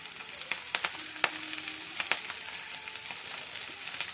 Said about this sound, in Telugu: మునగాకుని వేసి కొంచెంగా ఫస్ట్ కలియపెట్టుకుందాము.